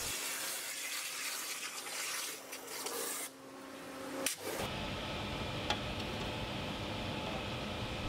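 An industrial water jet cutting machine slicing parts gives a continuous, harsh hiss and spray that changes character partway through, with a brief sharp transition and steady roar afterward.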